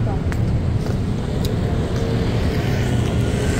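A car passes on a seaside road by the Mall of Asia on a morning walk, a steady, moderately loud traffic rumble spread across the whole moment, with faint wind and background noise.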